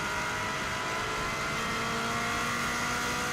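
Subaru WRX STI hillclimb car at the Isle of Man TT, its engine under power in a steady, loud, continuous roar heard from inside the cabin with no talking.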